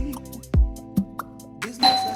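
A doorbell chime sounds near the end of a scene from a Ghanaian movie, a bright ringing tone rising over soft background music and low rumbling thuds.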